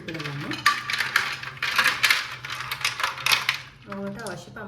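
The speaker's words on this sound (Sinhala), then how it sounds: "ඊට පස්සේ අපි අයිස් කැට ස්වල්පයකුත් ඒකට එකතු කරගන්නවා." Ice cubes clatter and clink into a glass of Milo milkshake mix, a quick run of bright, hard knocks up close, with a voice speaking briefly at the start and end.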